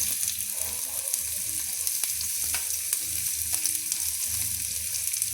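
Carrots and other chopped vegetables stir-frying in hot oil for egg chow mein, a steady sizzling hiss with scattered clicks and scrapes of stirring throughout, moderately loud and close.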